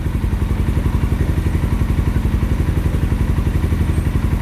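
A 2007 Suzuki GS500F motorcycle engine idling on choke after sitting, a loud, close, steady rhythmic chugging with even thumping pulses throughout.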